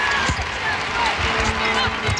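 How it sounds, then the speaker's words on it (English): Basketball dribbled high on a hardwood court during a women's all-star game, a few distinct bounces rising out of steady crowd noise and an announcer's voice. "She's got the high dribble."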